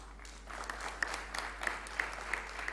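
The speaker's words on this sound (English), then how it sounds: "With a huge round of applause, we welcome Dr. Sutapa B. Nyogi" Faint, distant applause from a convocation audience, a thin patter of clapping with a few sharper individual claps standing out, brief and steady.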